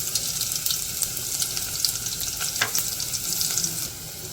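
Crushed garlic, cumin and bay leaves fry in hot oil in a village kitchen, a loud, close sizzle with scattered stirring clicks that eases slightly at the end.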